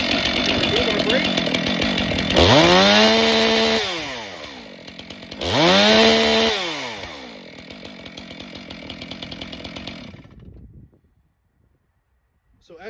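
A hot Stihl chainsaw starts and runs loud and close, revving hard twice with rising and falling whines between steady idling, then the chain stops and the engine cuts to silence.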